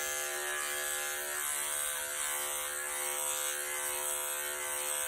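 Electric dog clippers with a 5/8-inch clip comb run over a dog's head during grooming, a continuous close high-pitched motor buzz with slight shifts in pitch as the blade meets the coat.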